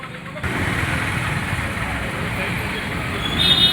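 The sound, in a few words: heavy street traffic outside Vellore Murugan temple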